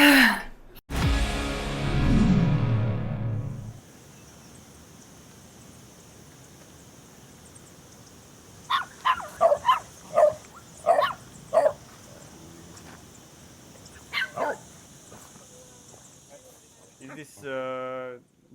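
Several dogs barking in a series of sharp, separate yaps at middle distance after a burst of loud music, with whimpers in between and a person talking.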